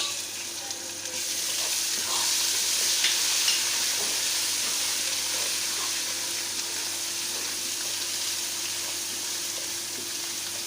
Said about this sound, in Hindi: इसको अदरक और लहसुन को अच्छी तरह भून लूँगी।